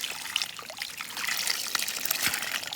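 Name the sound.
water trickling from cleared spring pipe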